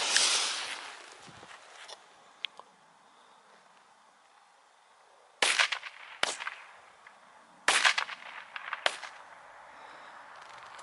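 Small Polish New Year's firecrackers from a supermarket set pop outdoors in scattered sharp bursts, two loud cracks and two fainter ones, separated by quiet stretches.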